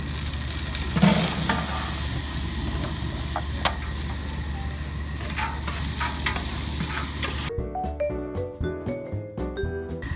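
Chopped onions sizzle and crackle steadily in hot oil for a chicken and venison sausage jambalaya, with occasional stirring scrapes; in the last few seconds a music bed takes over.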